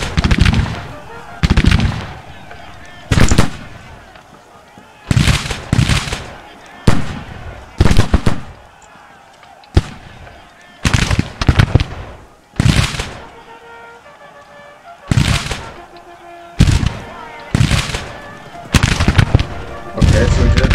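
Volleys of musket fire in the Grand Tactician: Civil War strategy game crack out in repeated loud bursts, some single and some in rapid clusters, spaced a second or two apart over a low ambient bed.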